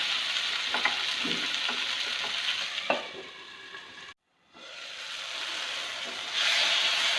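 Tomatoes cooking down in a covered pan for Manjali biryani give a steady close sizzle and hiss with a few soft knocks, a short break, then the sizzle returns brighter and louder.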